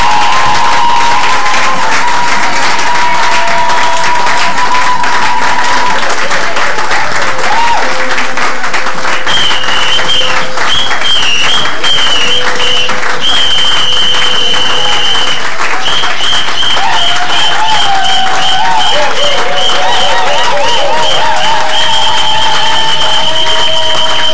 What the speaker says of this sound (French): Und jetzt will ich, dass ihr für den Herrn der Herren applaudiert.